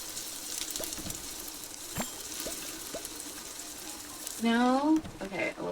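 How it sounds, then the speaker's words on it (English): Burger patties frying give a steady, fairly quiet sizzling hiss with a few scattered pops and clicks, and a person starts talking near the end. "Hopefully you can hear some of that sizzle now"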